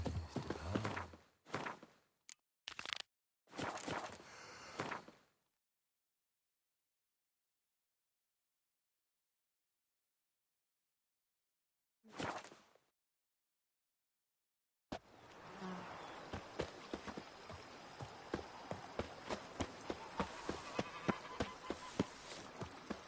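In The Witcher 3: Wild Hunt – Blood and Wine, a horse gallops with rapid, rhythmic hoofbeats that come in over the final stretch after gaps of silence and brief game sounds.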